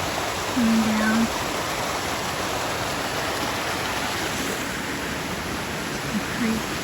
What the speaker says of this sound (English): Tiny waterfall there, coming down.